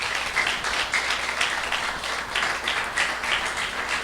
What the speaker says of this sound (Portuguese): Você pode dar um forte aplauso ao Senhor